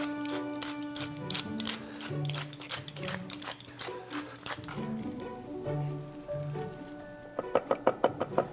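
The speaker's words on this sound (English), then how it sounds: "This is some fresh rosemary that I grew this summer. I'm just sprinkling the top." Fresh home-grown rosemary sprinkled over the top of focaccia dough, heard as soft, close patters and light taps in irregular bursts, with a few sharper clicks near the end.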